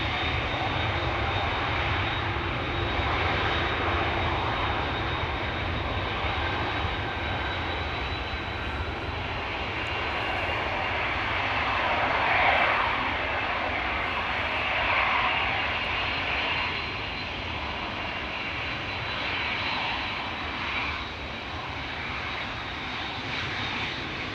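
An SLM Airbus A340 airliner taxis at Schiphol Airport after pushback, its engines giving a loud, steady, broad roar with a high whine, sustained throughout without speech.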